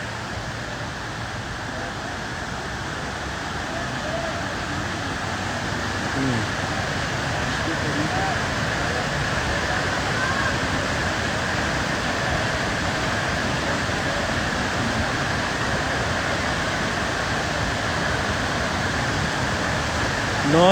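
Dadar Waterfall in Kaghan, Pakistan, roars as a steady, dense wash of falling water that fills the whole clip, loud and unbroken, with a busy crowd of holiday visitors at the site.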